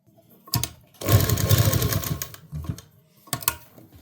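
A sewing machine stitches lining onto the neck of a readymade semi-stitched kurti: one steady run of rapid needle clatter lasting about a second, with brief clicks and handling knocks before and after it, close and fairly loud.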